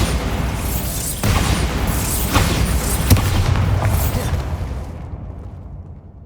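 A Bombarda spell explosion in the video game Hogwarts Legacy: a loud, booming burst that rumbles on for several seconds with crackling debris, then fades to near silence.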